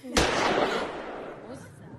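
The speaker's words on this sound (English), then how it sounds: "Miss Thompson, was that a gunshot?" A single gunshot cracks sharply and fairly loud, then fades into a long, echoing decay with nothing else clear around it.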